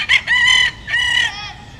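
Kelso gamefowl rooster crowing loudly and close on a farm, a short sharp call followed by a longer drawn-out crow, alone without talk.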